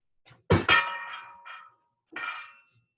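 A glass bowl is picked up and set down on a kitchen counter while quinoa tabouli is made: two bright, ringing clinks close together, then another clink a moment later, close and clear with no talking.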